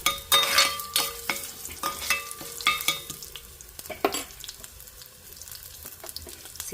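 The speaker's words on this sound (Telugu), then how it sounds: "ఈ టైంలో మనం చామదుంప ముక్కలు వేసేయాలి ఇందులో చూడండి" Taro root pieces tumble into a hot pan of oil and sizzle as they are stirred, with clattering spoon scrapes and a steady frying hiss close by and no talking.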